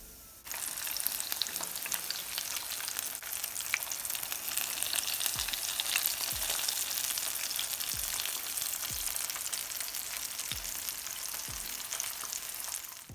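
Chicken legs deep-frying in a pot of hot oil, giving a dense, continuous crackling sizzle that holds steady throughout, with a few soft low knocks from the pot at intervals.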